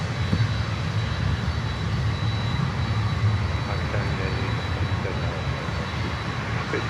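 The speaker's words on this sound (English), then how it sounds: "we have another wide body coming in, American Airlines with the 777-200" An American Airlines Boeing 777-200 wide-body jet arriving at Miami, a steady broadband engine roar that holds loud and even throughout, with no voices over it.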